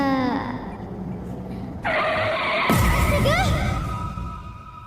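A car brakes suddenly with tyres skidding on the road, a sharp loud screech breaking out mid-clip over engine noise and lingering to the end.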